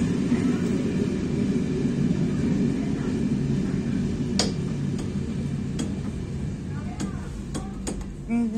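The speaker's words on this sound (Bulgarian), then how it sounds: "Ето влака за пещера, върви за нас." A train to a cave arrives at Stamboliyski central station, rumbling steadily nearby with a low continuous drone, a few sharp clicks and squeals rising over it, and voices talking in the background.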